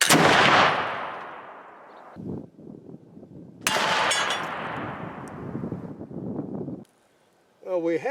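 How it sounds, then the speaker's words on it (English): Two loud gunshots ring out outdoors at a steel target, each with a long decaying boom, followed by scattered rustling and a brief high ringing squeal at the end. "we have received a hit on steel, and the hit is right there in the middle, right on top of the bolt"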